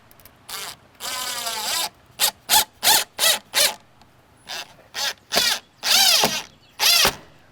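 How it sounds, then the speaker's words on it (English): A power drill driving exterior screws into a block outdoors to mount a Ring wired floodlight security camera, heard as a series of close, loud whirring bursts of varying length with short pauses between them and no talking. "I'm going to attach it with some exterior screws right out here."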